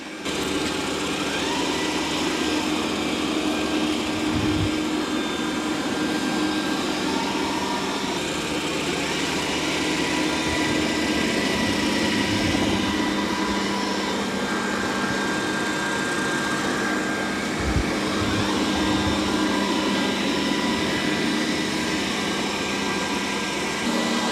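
A Roborock Q5 or Dreame D10 robot vacuum-mop runs steadily while making mopping passes over a muddy floor, a constant close motor whir and hiss with faint bumps, no talking.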